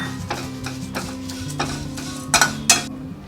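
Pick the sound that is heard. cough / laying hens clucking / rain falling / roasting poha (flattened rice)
roasting poha (flattened rice)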